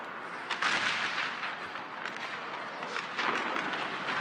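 Cannon and rifle fire crackle and boom in an American Civil War video game battle, a dense barrage of overlapping shots with heavier bursts near the start and end.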